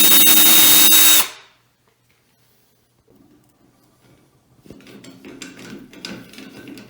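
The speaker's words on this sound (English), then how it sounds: "I'm just going to drill new holes that size and just go directly in to the fiberglass" A power drill with a 1/8 inch bit bores into fiberglass while a semi-frameless shower door is being installed. The loud, steady whine runs about a second and then cuts off, followed by quieter handling noises.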